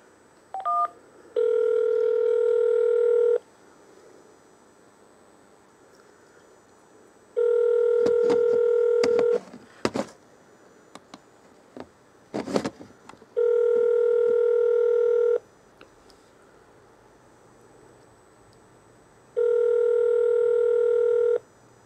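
On an office phone menu, steady electronic tones sound in four separate, evenly spaced blocks of about two seconds each, clear and prominent, with faint clicks and handling noise in the gaps and no talk.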